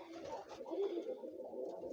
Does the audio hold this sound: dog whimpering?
no